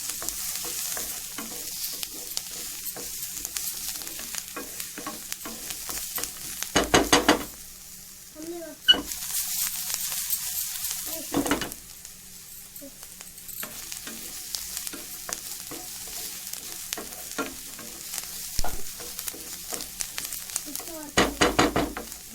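Steady sizzling of fresh coconut and spices frying in a pan for hotel-style idli sambar, with repeated stirring scrapes rising over the hiss and a brief quieter gap midway.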